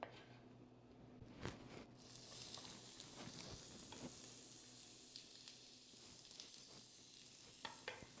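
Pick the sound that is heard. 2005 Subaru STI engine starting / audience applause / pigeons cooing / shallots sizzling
shallots sizzling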